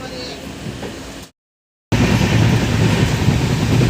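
Passenger train running fast on rails after leaving Bandel, a loud continuous roar and rumble heard from inside the carriage, briefly cut to silence before resuming louder and steadier.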